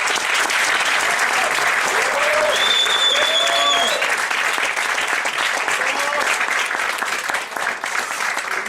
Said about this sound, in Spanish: un fuerte aplauso a nuestros ponentes